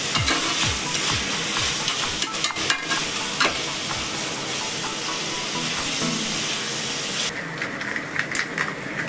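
Chicken biryani ingredients being stirred and fried in a pan, a loud, continuous sizzle and hiss with rhythmic scraping from the stirring up close.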